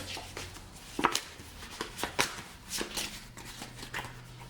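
A deck of cards for the board game Descent 2nd Edition is shuffled on a table, producing faint, quick riffling swishes and soft taps spaced through a quiet room.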